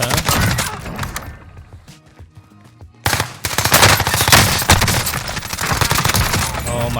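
The Bruin machine gun fires in Call of Duty Warzone, loud rapid bursts with a brief lull before sustained automatic fire resumes, close and dominant.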